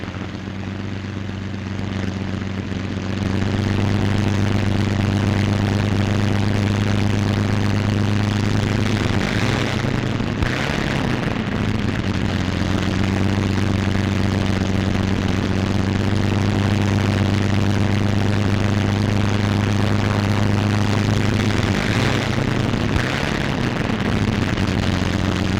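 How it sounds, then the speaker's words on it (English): A 1943 Thunderbolt fighter plane taxis to its hard standing on an airfield, its big piston engine droning loudly and steadily at low revs, with slight shifts in pitch as it rolls. "Plane taxis to its own hard standing, widely dispersed around the field."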